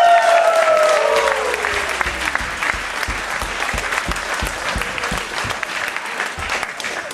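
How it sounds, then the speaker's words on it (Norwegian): An audience at a small-town youth club revue premiere party breaks into full applause, loud and sustained clapping from many hands. Someone speaks briefly at the start. "Så gi dere selv en applaus for at dere kommer."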